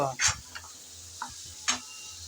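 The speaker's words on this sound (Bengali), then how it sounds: "ঢাকনা ছাড়াই এভাবে নেড়ে চেড়ে রান্না করে নেব" Okra sizzles gently in an uncovered pan while being stirred, with a few short scraping bursts of the spatula standing out over a quiet, steady frying hiss.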